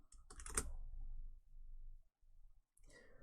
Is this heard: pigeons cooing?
no